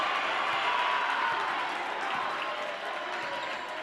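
A high school basketball crowd at a Germantown Academy versus Academy at Palumbo showcase game cheers and applauds in a loud, dense, continuous roar that eases slightly toward the end, with no clear talk.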